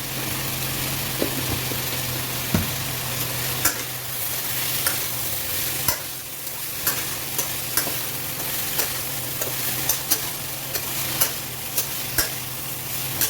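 Amla pickle with turmeric being stirred in a pan over a low flame, a soft steady sizzle under repeated scraping strokes of a spoon against the metal, with no talking.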